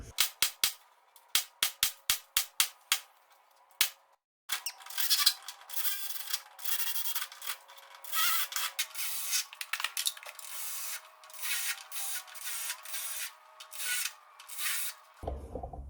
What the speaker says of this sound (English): That is all the spot welds drilled out.